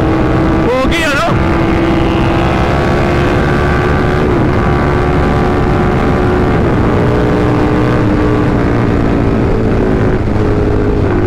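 A KTM Superduke 1290R naked motorcycle cruising with a steady, loud engine drone and shifting pitch, heavy wind rush over the microphone throughout, and a brief sharper burst near the start.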